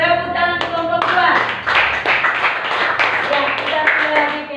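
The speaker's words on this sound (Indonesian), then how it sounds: "Tepuk tangan kelompok 2." A group of students in a classroom clapping together in a brisk, loud burst of applause, close by, with a voice briefly heard near the start.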